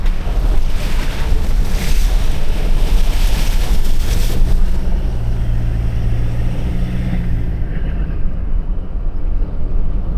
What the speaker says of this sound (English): Bunch of little river crossings.